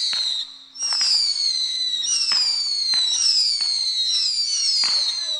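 Fireworks at a Canada Day celebration whistle and crackle repeatedly, with bright descending whistles and sharp pops recurring every second or so, loud and close, with no talk over them.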